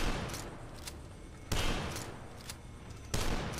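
Turrets firing in the retro shooter DUSK: three loud, sharp gunfire blasts spaced about a second and a half apart, each trailing off into a noisy decay, with no talk.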